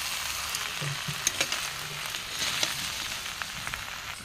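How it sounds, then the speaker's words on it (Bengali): Mutton cooked with raw papaya fries and is stirred in a pot over a wood fire, a steady close sizzle with occasional scraping and clinking from the stirring. "তো সেই জন্য কাঁচা পেঁপে দিয়ে রান্না করছি। এখন কষাচ্ছি"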